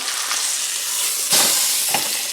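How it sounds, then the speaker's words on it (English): A roast beef sears in a very hot pan on high heat, a loud, close, steady sizzle with brief surges as the meat shifts. "We want to sear that side."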